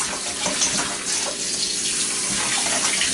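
A loud, close stream of running tap water splashes steadily over goat meat being rinsed for a few seconds, with no talking.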